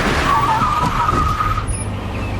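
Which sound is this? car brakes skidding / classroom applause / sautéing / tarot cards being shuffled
car brakes skidding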